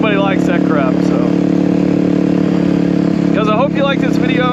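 A Kawasaki KLX300R motorcycle fitted with an FMF Powercore 4 exhaust holds a loud, steady idle close by, with a voice talking over it for most of the stretch.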